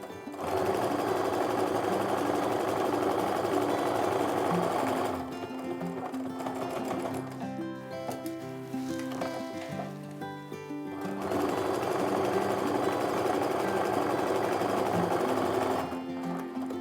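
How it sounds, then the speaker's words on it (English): A sewing machine stitches quilt pieces in continuous bursts of rapid mechanical whirring. The loud runs at the start and end are broken in the middle by quieter stretches of clicking and handling sounds. "then we'll put them through the sewing machine"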